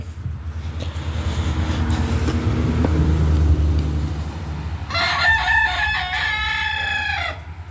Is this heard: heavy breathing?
no